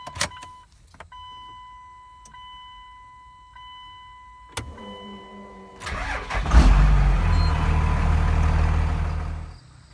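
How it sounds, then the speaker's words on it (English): A Cummins diesel truck engine cranks and starts after a crankshaft position sensor install; after quiet clicks and ticks, the starter kicks in and the engine catches, settling into a loud, steady, close diesel idle. "we're gonna go ahead and start this thing up for the first time after the install"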